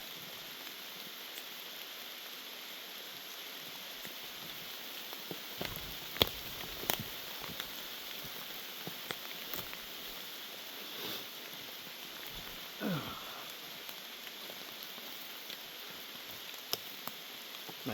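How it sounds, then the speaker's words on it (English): Steady, relentless rain falling outdoors, a constant soft hiss with scattered drips and taps, fairly faint and without voices. "Wow, this rain is relentless."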